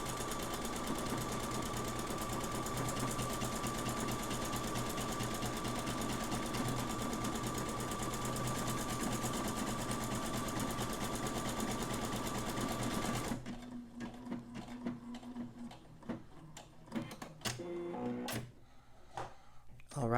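Sewing machine stitching a buttonhole, a fast steady mechanical whir running continuously, then stopping, followed by short clicks and handling noises of the machine being adjusted.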